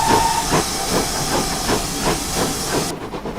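A pannier tank steam engine departs on the Riviera line toward Kingswear, hissing steam loudly and continuously with rhythmic chuffing pulses, a brief whistle tone at the start, and the sound cutting off near the end.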